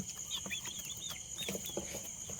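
Native country chicken chicks on a village poultry farm give a run of high, rising peeps close by, repeated several times over a steady background hiss.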